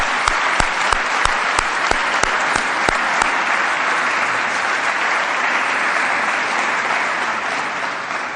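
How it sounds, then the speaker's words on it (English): Sustained audience applause at a financial literacy symposium, a dense wash of many hands with a few sharp, distinct claps standing out early on. It holds steady throughout and eases only slightly at the end. "a very big round of applause to thank all of those people"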